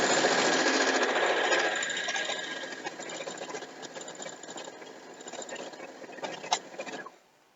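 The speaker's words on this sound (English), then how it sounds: "So I'm going to sew all of them the one side first, and then go back and sew the other side." A sewing machine runs steadily, stitching pieces of a Final Fantasy screenshot quilt, loud and close at first, then easing into a softer, continuous whir before stopping abruptly.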